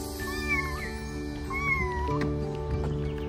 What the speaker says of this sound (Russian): Котенок застрял там.